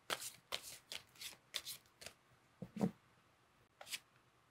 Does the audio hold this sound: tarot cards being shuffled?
yes